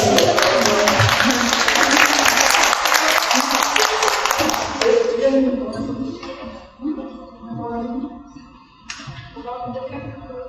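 Audience applause at a book presentation in a central library, dense clapping for about five seconds before fading out as people begin talking.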